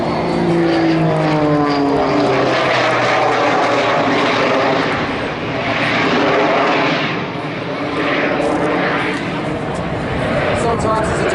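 At an airshow, a propeller aeroplane with jets mounted on the sides of its fuselage flies past, its loud, steady engine drone rising and falling for several seconds under a commentator's talk.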